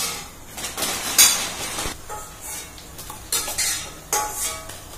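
Pani puri frying in hot oil, with a steady close sizzle under repeated metallic clinks and scrapes of a slotted spoon against the pan.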